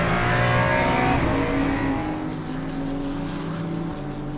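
Race car engine in the Le Mans Ultimate racing game, a loud, continuous droning roar that holds steady, then eases slightly in pitch and intensity as it runs on without any voices.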